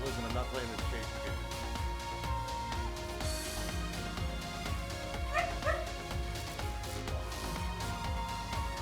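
Dog yipping, barking and whimpering in short bursts, mixed under a person's speech and background music.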